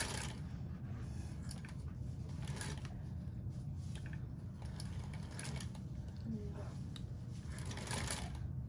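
A small Featherweight sewing machine runs steadily up close, its rapid needle chatter continuous and even as it stitches forward and back tacks, with no pauses in the motor's whir.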